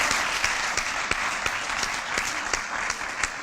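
A graduation ceremony audience applauds a classmate, a steady wash of many hands clapping in a hall with a few sharper individual claps standing out, no voices over it.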